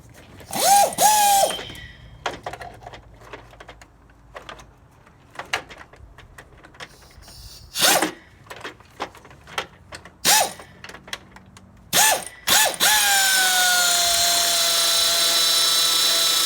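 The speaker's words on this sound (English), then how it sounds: "And I'll get my air tool just to make sure I got them all back there in the back." An air tool works on the valve cover of a 2008-2009 BMW X6 35i with the N54 engine, firing in several short ratcheting bursts between quieter gaps, then running steadily and loudly in a longer final burst.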